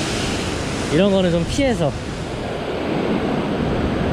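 Ocean waves wash onto the shore while fishing, making a steady roaring surf that runs throughout, with a voice speaking briefly over it near the start.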